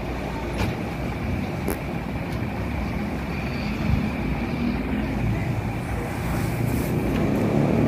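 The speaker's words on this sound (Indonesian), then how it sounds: "Bahagia Trans meninggalkan parkir wisata teman." A Bahagia Trans tour bus pulls out of a tourist parking area near Sunan Bonang, Tuban, a loud rumbling engine roar that builds slightly as it moves off, with faint voices in the background.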